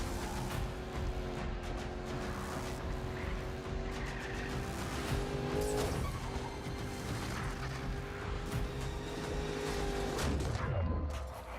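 A BMW X6M in a video game driving at speed, with a dense, loud engine roar and a tire skid running through the whole stretch, plus occasional bangs and impacts.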